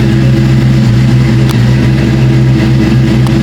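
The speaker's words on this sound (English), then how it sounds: "Us and our loud cars." A loud SN95 Ford Mustang engine rumbles steadily at close range, a deep continuous drone with a faint mechanical whine, no voices.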